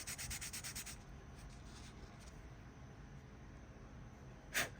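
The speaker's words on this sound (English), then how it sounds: "put it back on that sanding stick" A plastic light bar lens is rubbed back and forth on a sanding stick, faint rhythmic scratchy strokes that soften into a quieter steady rasp.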